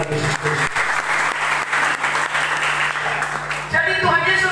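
A church congregation claps together in sustained applause, dense and steady, while a voice over a loudspeaker talks along with it; the clapping swells again near the end.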